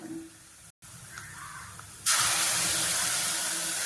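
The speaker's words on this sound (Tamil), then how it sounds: "அடுத்து இதில் வந்து நான் அரைச்சி வச்சிருக்க அந்த தக்காளி, வெங்காயம், பூண்டு இருக்கிற அந்த பேஸ்ட்டை வந்து ஊற்றிக்கிறேன்" Thick tomato, onion and garlic paste poured into a hot pan, setting off a loud, steady sizzling hiss that bursts in suddenly and holds, after a quieter stretch of low kitchen noise.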